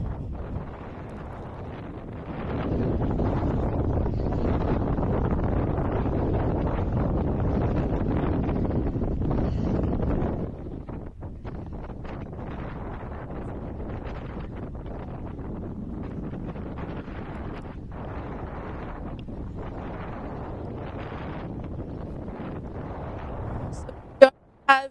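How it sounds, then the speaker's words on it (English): Strong wind buffets the microphone at an outdoor ultra trail race in Cape Town, a steady low roar that swells for several seconds, then eases into a lighter gusting rumble, with a brief sharp knock near the end. "Yep, the wind's back."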